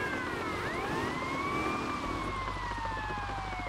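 Police car siren in the video game Grand Theft Auto: Vice City, a loud, close, wailing tone that rises and falls over a steady engine and road rumble.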